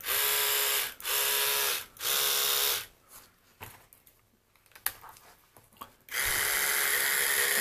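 A small electric motor run at about 1.1 volts whirs in three steady bursts with short stops between, then falls quiet amid faint handling clicks before spinning up again loudly near the mic.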